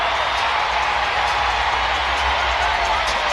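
A boxing arena crowd cheers loudly after a unanimous decision for Tony Harrison in his fight with Edward Ulloa Diaz, a dense, steady roar filling the hall throughout.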